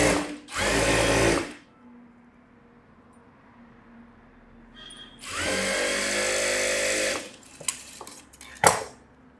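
A sewing machine stitches a buff sleeve in two bursts, a short one of about a second and a longer run of about two seconds, each with a steady close whir, followed by small clicks and taps.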